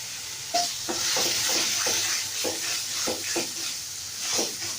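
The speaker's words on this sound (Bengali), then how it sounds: "মশলাটা কষিয়ে এসেছি, দিয়ে একটু নাড়াচাড়া করবো।" Spice masala with ginger paste and turmeric, cooked for beef tili bhuna, is stirred in a hot pan, giving a soft continuous sizzle with repeated scraping strokes of the spoon, close and moderately quiet.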